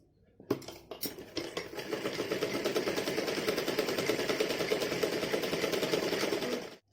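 A sewing machine stitches fabric for a child's Holi dress, running in a steady, fast mechanical chatter for several seconds after a couple of brief starts, close and alone.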